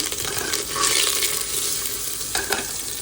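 Curry leaves hit hot oil with bay leaf in a pan for an Agri-style tempering, producing a loud, bright crackling sizzle with a couple of sharp spitting bursts.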